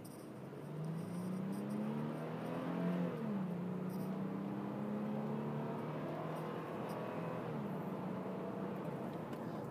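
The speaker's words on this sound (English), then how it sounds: "I'm going to jump on the gas here real quick and be quiet so you can hear it run." A 2008 Toyota 4Runner SR5 engine, run for a prospective buyer, rises from idle into a smooth rev, eases back, and then holds a steady, fairly quiet drone, with no voices.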